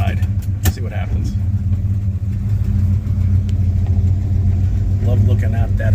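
A 1972 Buick Skylark's engine hums steadily from inside the moving car, a low continuous drone with faint road noise and a brief knock near the start.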